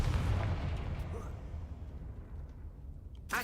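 Confringo blasting spell cast in Hogwarts Legacy, a loud rumbling explosion at the start that fades into a long low decay, with a sharp pop at the very end.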